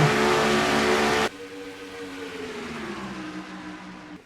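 Race car engines roar at Atlanta in a racing video game, one loud car screaming past and cutting off abruptly, then a steadier, fainter engine drone with a slowly shifting pitch.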